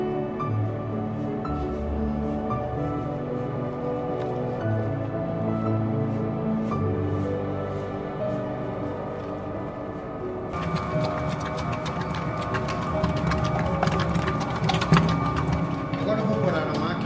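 A bakery mixing machine kneads panettone dough with butter being added, giving a steady mechanical whir with rhythmic slapping and thumping, which grows louder and brighter partway through. A person speaks over it.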